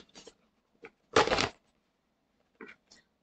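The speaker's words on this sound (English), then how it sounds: "Yeah, I ripped it out." A toy weapon is ripped out of its packaging, giving crinkly, scratchy plastic bursts with one loud tearing rustle in the middle and softer rustles around it, close to the mic.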